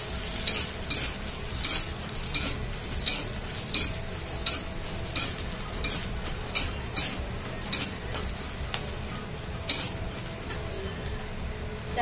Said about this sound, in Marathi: आता इथे आपण शेंगदाणे घालणार आहोत आणि पुन्हा एकदा मिरची व्यवस्थित अशी भाजून घेणार आहोत